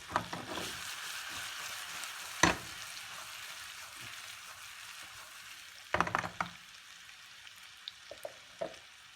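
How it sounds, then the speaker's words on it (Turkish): Meat sautéing in a frying pan while cooking kara bahar, a steady broadband sizzle with a few sharper stirring clatters and spits near the start and toward the end. "Bu halde sotelemeye çalışacağız."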